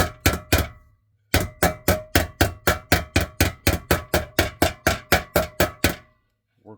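Hammer banging out small dents in metal, a steady series of about twenty sharp, ringing blows close by, with a brief pause after the first few strikes.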